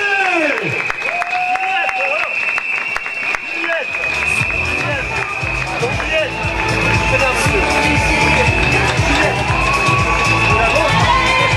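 Supporters cheering and shouting for a runner at a race finish, a loud continuous crowd roar with whoops, clapping and an announcer talking over it throughout.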